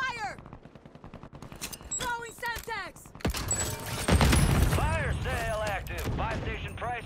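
Gunfire in Call of Duty Warzone: rapid shots and bursts break out midway, loud and busy, mixed with chirping and whistling game sounds and a sharp, voice-like squeal.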